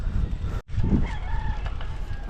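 Chickens and roosters call in a large flock, loud and close, with crowing and clucking layered over constant low background noise.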